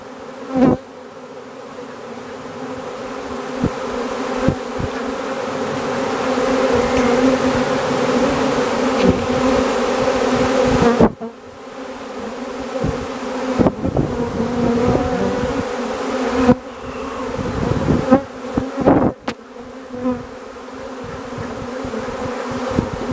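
Dense buzzing of a honeybee swarm arriving at a nuc hive fills the air, steady and close, with bees occasionally zipping right past the microphone and thumping against it.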